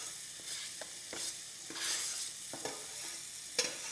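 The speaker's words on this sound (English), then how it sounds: "And then stir that around. Make sure that it doesn't burn." Onions and garlic stirred around a hot skillet in leftover salmon juices, giving a steady sizzle and frying hiss broken by short utensil scrapes, close up with no voices.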